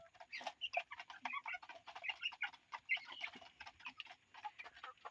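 Young chicken and duck chicks call from a cage, rapid high-pitched cheeps and peeps overlapping in quick irregular bursts, close and fairly quiet, with no talk.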